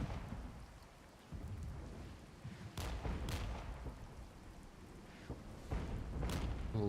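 Distant artillery fire in the Cold War video game Warpath, several deep booming blasts spaced a second or so apart over a low rumbling battlefield background, moderately loud.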